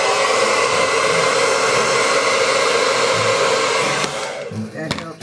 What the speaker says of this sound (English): You can put the blow dryer on it if you want.